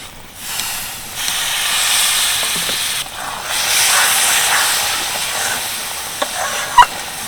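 Vinegar hits a hot pan of amra (hog plum) pickle and sets off a broad hissing sizzle that swells in two waves, with a couple of sharp knocks near the end and no talk.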